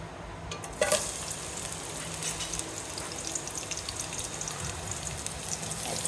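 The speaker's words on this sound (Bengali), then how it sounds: "তেল দিয়ে দিচ্ছি, গরম হয়ে গেছে, দিয়ে দেবো পেঁয়াজ" Hot oil sizzling and crackling steadily in a pan for chicken curry, with onion about to go in; a continuous close frying hiss with a brief sharper spatter near the start and no talking.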